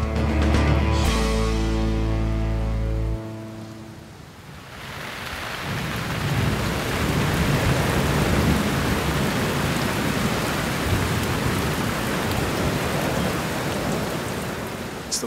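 A convective thunderstorm, with a deep rolling thunder rumble at the start that gives way to a steady, loud roar of heavy rain lasting to the end.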